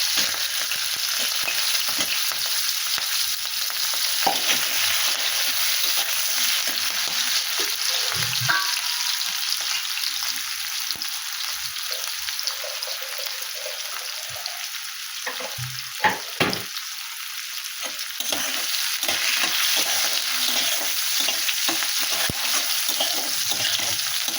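Onion, dried red chilli and potato fry in a pan with cumin, giving a steady close hiss and sizzle throughout, with occasional stirring scrapes and clinks and no talking.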